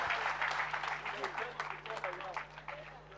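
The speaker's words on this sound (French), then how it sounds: "Applaudissons pour Jésus-Christ encore une fois" A church congregation applauds in praise of Jesus Christ, a dense wash of clapping at steady volume with voices mixed in, easing off slightly toward the end.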